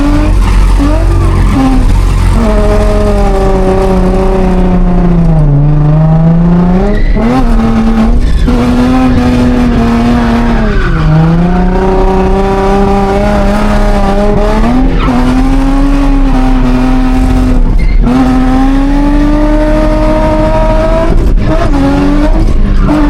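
A car in a racing sim video game drifts around a track, with loud continuous tire squeal that bends up and down in pitch, engine revving underneath, close and sustained throughout.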